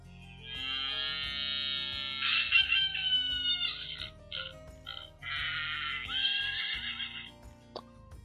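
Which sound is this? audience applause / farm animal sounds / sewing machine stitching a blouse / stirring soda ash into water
farm animal sounds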